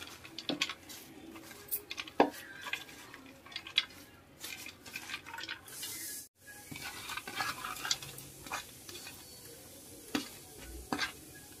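Amaranth leaves dropped into a pot of water and stirred, heard as scattered scraping, clinking and rustling against the pot with irregular bursts, close and moderately loud.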